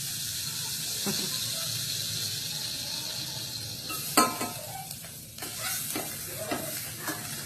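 Garlic sautéing in a pan: a steady, moderately loud sizzle with a few sharp clinks and scrapes of stirring, while a voice speaks over it.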